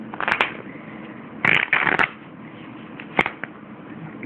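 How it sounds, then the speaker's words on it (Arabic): A new deck of blue playing cards is shuffled and handled for a magic trick in a few brisk, close riffling bursts separated by quiet pauses, with one sharp flick near the end. "أخذت الورق"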